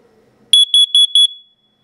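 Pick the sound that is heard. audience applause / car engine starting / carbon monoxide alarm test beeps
carbon monoxide alarm test beeps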